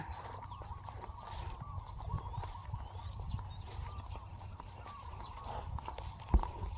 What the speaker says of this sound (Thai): เสียงนกเสียงนกร้อง